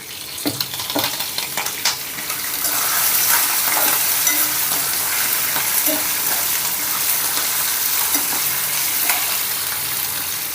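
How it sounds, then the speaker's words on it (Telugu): Green chilli pieces and spices sizzling in hot oil for lemon rice, with a steady, crackling fry and occasional scrapes of a stirring spoon, close and continuous. "ఇప్పుడు ఇందులో సన్నగా చీల్చి పెట్టుకున్న ఈ పచ్చిమిర్చి ముక్కల్ని కూడా వేసుకున్నాం"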